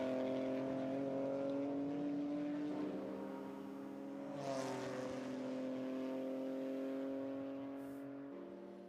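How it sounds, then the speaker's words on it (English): A BMW GT4 race car's engine drones from a distance on the track, holding a steady pitch that shifts slightly as it lifts and powers on toward a corner, fairly faint throughout. "So the BMW powers on and now comes down towards the last corner on the lap."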